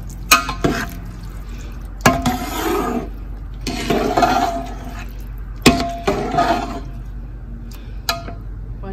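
A spoon stirs a rice mixture with tomato paste and lemon juice in a pot, giving repeated scraping and clinking strokes in bursts, fairly close, with no talk.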